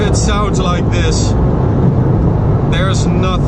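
A 2017 Porsche 911 GT3 engine roars loudly and steadily throughout, with a person talking over it at the start and again near the end.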